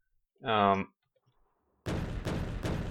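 A handheld tank cannon in Factorio fires shells in a quick series of loud booming blasts after a short tonal game sound and a silent pause.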